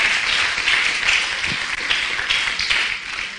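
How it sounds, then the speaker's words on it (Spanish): A church congregation breaks into loud, dense applause, many hands clapping at once in a continuous roar that holds steady throughout with no voices over it. "Denle un aplauso fuerte a Cristo"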